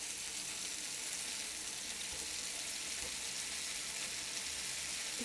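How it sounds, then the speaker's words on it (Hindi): Paneer tikka pieces frying in a pan on a medium flame, a steady bright hiss of sizzling oil that holds even and constant throughout, close up, with no voices. "मीडियम फ्लेम पर इसको अलट पलट करते हुए अच्छी तरीके से गोल्डन स्पॉट आने तक हम इसको फ्राई कर लेंगे।"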